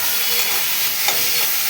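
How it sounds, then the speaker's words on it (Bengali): Potato and jackfruit fry in a pan with a steady, dense sizzle while a utensil stirs them, with a few soft scraping clicks near the end and no voices. "ভালো করে ভেজে নিচ্ছি।"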